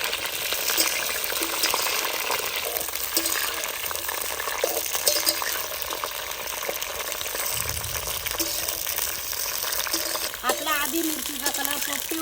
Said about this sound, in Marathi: आपलं तेल तापलेलं आहे आता आपण एक किलो मिरची घेतलेली ती आपण याच्यामध्ये परतून घेणार आहे